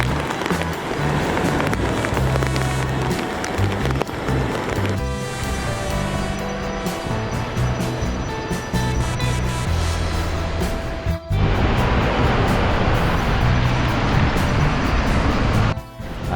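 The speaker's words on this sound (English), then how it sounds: "Here we're so close to the waterfall," Constant loud roar of rushing water close to Takakkaw Falls, a dense wash of noise with some wind buffeting and no clear talking.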